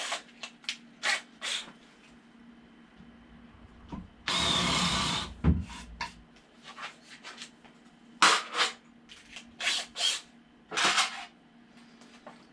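A power drill countersinks a screw hole in wood for a bonsai backdrop: one loud, close whirring burst lasting about a second and a half. Sharp handling knocks and clicks come before and after it.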